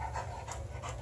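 A puppy panting close up, a quick rhythmic run of breathy huffs lasting about a second, with no talk over it.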